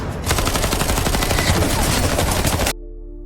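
Dense film gunfight with rapid overlapping gunshots and automatic fire, loud and continuous for nearly three seconds before cutting abruptly to a low hum.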